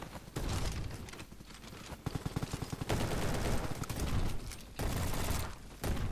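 M16 rifle fire in the Roblox game Bad Business comes in rapid automatic bursts, loud and close, with brief pauses between strings of shots.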